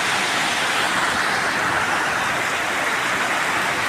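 Steady rain pours down outdoors as a continuous, even hiss of drops with no break or change in intensity.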